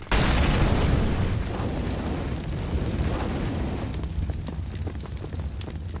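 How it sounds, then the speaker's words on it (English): A molotov fire grenade igniting and burning in CS:GO, a loud whooshing burst at the start that settles into a steady roaring crackle of flames, with faint clicks and game noises toward the end. "Throwing fire."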